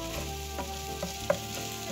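Crushed garlic and ginger fry in hot oil in a pan, a steady close sizzle broken by a few small pops and stirring clicks, with no talking.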